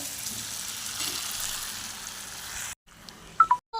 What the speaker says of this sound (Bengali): পনির আলু আর পটল মশলাটা দিয়ে কষানো হচ্ছে